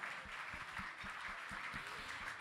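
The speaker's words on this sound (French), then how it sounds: "qu'on peut applaudir. Bravo." Quiet, distant clapping from an audience at a supply chain directors' awards gala, an even patter lasting a couple of seconds with occasional low knocks and no voices.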